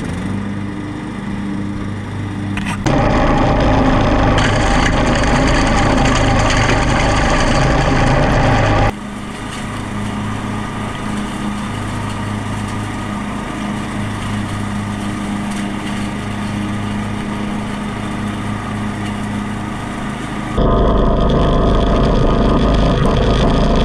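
A Cub Cadet XT1 Enduro riding mower with a 42-inch deck mows open ground. Its engine gives a loud, continuous drone that shifts pitch and intensity a few times as it works.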